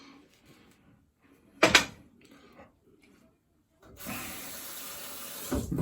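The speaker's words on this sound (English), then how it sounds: "Just rinse my hands." Tap water runs steadily into a sink, starting partway through after a brief clatter and some soft handling sounds, a close, even splashing stream while soapy hands are rinsed.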